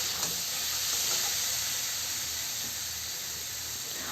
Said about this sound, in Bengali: তো হালকা করে একটু কষিয়ে নেব।